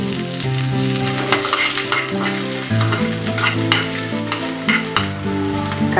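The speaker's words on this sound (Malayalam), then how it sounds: "കടുക് പൊട്ടിക്കഴിഞ്ഞിട്ട് കറിവേപ്പില ഇടുക." Mustard seeds and curry leaves fry in hot oil for a Kerala green peas masala curry tempering, with a loud, continuous close sizzle and crackling pops throughout and no talking.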